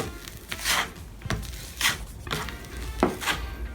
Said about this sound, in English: I'm using my 4-inch mud knife right now.